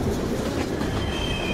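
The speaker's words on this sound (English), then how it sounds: "We gotta get on that train, Ethan. It's our only chance!" A train rumbles past in the video game Heavy Rain, a loud continuous rolling roar with faint clatter and a thin wheel squeal.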